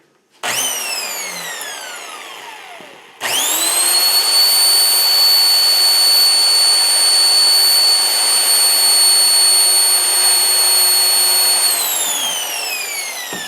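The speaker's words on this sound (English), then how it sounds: "And then let's see if I can just drill another one" A drill bores into heavy metal in a sustained loud whine: a first short run spins down, then it restarts and holds steady for several seconds before winding down, with no talk.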